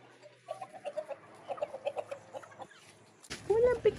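Several hens settling to roost cluck in quick, irregular bursts nearby, followed by a louder rustle and a drawn-out squawk at the end.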